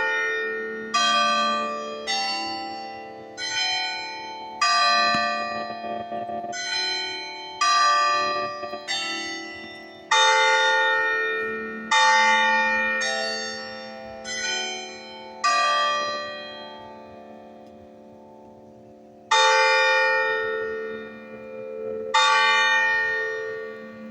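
A church bell tolls again and again over a steady hum, each strike rich in ringing overtones that hang and decay before the next blow, with a pause before the last few strikes.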